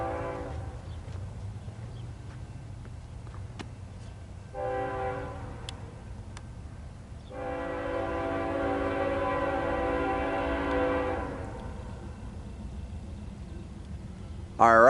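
An eastbound freight train near Daggett sounds its horn, first a short blast, then a long sustained chord, over a steady low rumble of the passing train heard from a distance.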